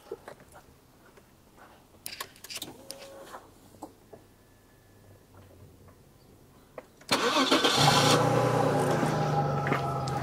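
An Audi A6 Allroad 2.7 V6 engine cranks and catches, settling into a loud, steady run after quiet shuffling and small clicks.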